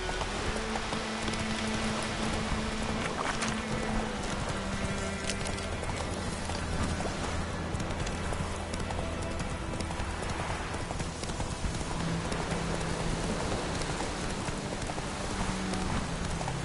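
A horse gallops in The Witcher 3 video game, a rapid, continuous clip-clop of hooves running steadily over a rain-like patter, close and prominent throughout.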